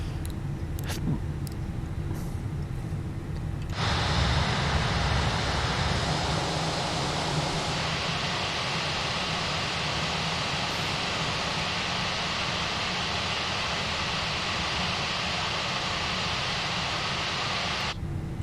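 Airbus A320 engines in a flight simulator game hold a loud, steady broadband roar that stays constant throughout, with a few clicks just before it swells.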